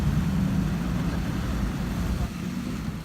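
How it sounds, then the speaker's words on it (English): A Mercedes G-Class V8 rumbles low and steady with its exhaust dumping straight into water, giving a continuous muffled, bubbling drone close by. "the exhaust is dumping out straight to the water"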